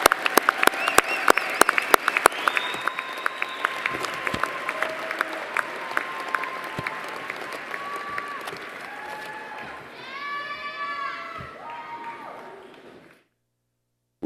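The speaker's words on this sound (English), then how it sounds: "let's give all of our graduates a round of applause again" Audience applause for graduates at a December commencement ceremony, sustained clapping from a large hall crowd with scattered cheers and voices rising near the end before it cuts off.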